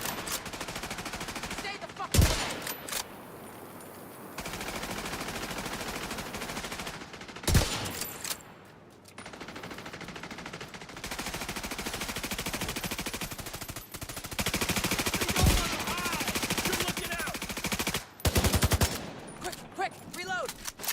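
Bursts of automatic gunfire with rapid repeated shots, broken by short pauses where the weapon needs reloading, loud and continuous through most of the stretch.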